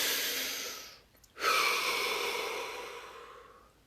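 One long, deep breath drawn in and released slowly during a calm relaxation session, close and alone, fading gradually after a short pause.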